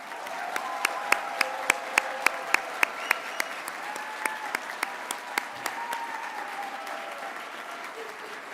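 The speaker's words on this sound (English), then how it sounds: "Please join me in a round of applause." Audience applause for graduates at a graduate pre-commencement celebration: a burst of crisp claps from a modest crowd that gradually thins into scattered, lighter clapping.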